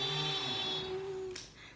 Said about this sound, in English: That's the sound of the school bell ringing because it's time for school to start.